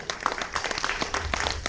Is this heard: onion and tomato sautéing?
no